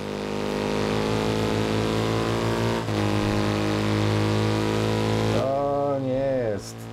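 Motorcycle engine in the racing game Ride 3, a loud steady harmonic drone that holds for several seconds, then swoops up and down through rapid gear changes near the end.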